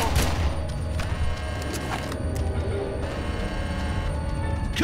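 Gunfire in the shooter game Red Faction: dense, continuous rattling shots and impacts at close range over a loud, busy background of game noise.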